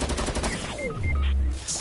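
Rapid automatic gunfire from the video game Fortnite rattles loudly and continuously in bursts for the whole short stretch, with no talk over it.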